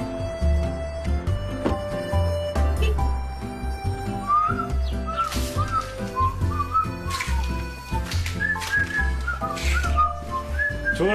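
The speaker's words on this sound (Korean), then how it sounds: "휘파람 소리도 나오고" A person whistles a lively, wandering tune in bright chirpy phrases over a thumping musical backing, fairly close and clear.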